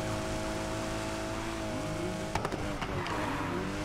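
A car engine drones with shifting pitch as the car races away from police in Need for Speed Heat, a video game, while a few brief knocks and impacts break in partway through.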